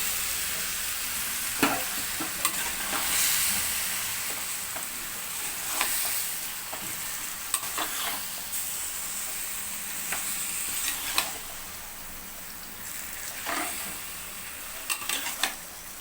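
Marinated chicken stirred and fried in a pan, a constant bright sizzle with scattered spatula scrapes and taps over sixteen seconds, close and free of speech.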